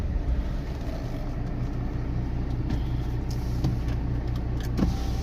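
A car idles with a steady low engine rumble that fills the whole stretch, fairly close, with faint clicks and thumps over it and no talk.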